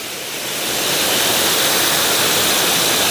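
A loud, continuous roar of rushing water from nearby Punyagiri waterfalls at a temple site, building in the first second and then holding steady.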